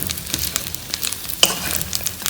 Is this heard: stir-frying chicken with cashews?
yes